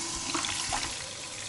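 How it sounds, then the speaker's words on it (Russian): Water runs steadily from a tap into a bucket, a continuous hissing splash with faint bubbling, close and alone. "Набираю воду"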